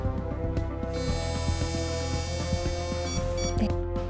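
A driver blows hard into a breathalyzer during a 2010 road traffic authority test after drinking soju. A steady electronic beep tone sounds for about three seconds over rushing breath noise, then cuts off.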